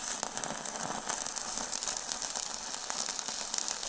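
A welding machine arc-welds a steel pipe while the current is tuned, giving a steady, loud crackling sizzle that runs unbroken and close throughout.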